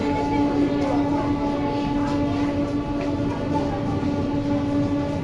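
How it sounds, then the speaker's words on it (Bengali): A train passing through Durgapur railway station, a steady rumbling roll of railcars with a faint horn-like tone throughout, moderately loud and continuous with distant platform ambience. "দেখে নিন আমি দাঁড়িয়ে থাকতে থাকতে কতগুলো ট্রেন আসবে"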